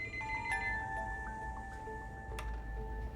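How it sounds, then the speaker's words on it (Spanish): A telephone rings in a quiet indoor room during a detective drama, its steady electronic ring tones holding through the whole stretch with faint ticking and a low background hum, no voices. "en ese momento el teléfono sonó"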